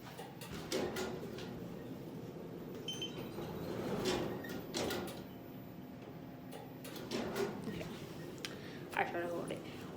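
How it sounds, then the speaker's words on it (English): An elevator door slides open with mechanical clicks and rumbles, close and moderately loud, while people talk nearby throughout. "Let me open up this door because I think this man is coming inside of the elevator."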